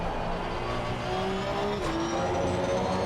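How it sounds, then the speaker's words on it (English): A Ferrari race car in Assetto Corsa Competizione roars past at speed, its engine note rising and shifting over a steady hum of the player's own car running on track. "Ferrari blasting past us now"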